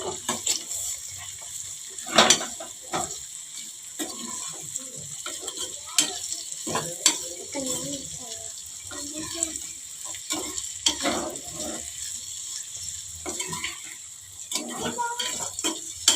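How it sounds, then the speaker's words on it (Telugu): Onions frying in a pan for egg curry while being stirred, a steady close sizzle with scattered scrapes and clicks of the spoon against the pan. "ఇప్పుడు మనం మిక్స్ చేసుకున్నాం ఫ్రెండ్స్. మిక్స్ చేసుకుందాం."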